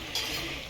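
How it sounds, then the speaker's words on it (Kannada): Masala vada fries in hot oil, a dense, steady hiss of bubbling and sizzling that fills the whole moment, close by, with a slight rise in intensity just after the start. "ಈಗ ಮತ್ತೆ ಬಬಲ್ಸ್ ಇನ್ಕ್ರೀಸ್ ಆಯಿತು, ಹಸಿ ಇದೆ ಅಂತ"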